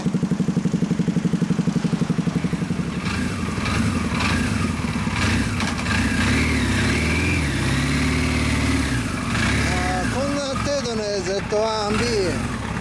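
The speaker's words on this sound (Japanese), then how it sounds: "今エンジンかけてもらえるかな" A 1974 Kawasaki Z1B motorcycle engine with double disc brakes idles with a steady pulsing throb, then revs and rumbles while people talk over it.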